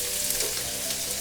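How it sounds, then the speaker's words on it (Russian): Onion frying in a pan while veal liver in red wine with mushrooms is being cooked, giving a steady, close, even sizzle with no pauses and no talk. "Но мы не должны забывать о том, что у нас жарится лук."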